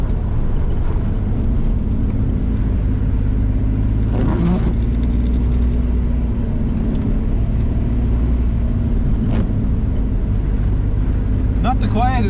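Steady low engine drone and road roar inside a restored 1992 Daihatsu Charade 1-litre turbo diesel on winter tyres, driving through falling rain, continuous and fairly loud throughout with brief higher rattles.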